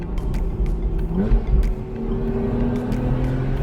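A 2015 Porsche 911 Carrera 4S with its 400-horsepower flat-six and sport exhaust produces a steady, close engine drone with rising harmonic tones as it revs, continuous and unbroken by talk.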